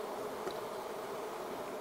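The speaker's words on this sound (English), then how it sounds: "chase a few of the bees downstairs before we get too much excitement" Honey bees buzz steadily inside a swarm box with cross comb, a dense continuous hum close by with no voices.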